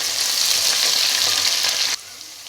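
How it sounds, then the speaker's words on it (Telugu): Onions, green chillies and curry leaves sizzle in hot oil in a pan, a loud, continuous bright frying hiss that cuts off abruptly near the end, leaving only faint quiet crackle. "ఉల్లిపాయలు గోల్డెన్ కలర్ వచ్చేంత వరకు ఫ్రై చేసుకుందామండి"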